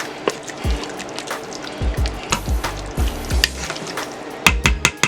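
Chicken and broccoli with a splash of sesame oil get stirred in a pot, a spoon knocking and scraping against the bottom in uneven strokes over a light wet sizzle, close and with no speech.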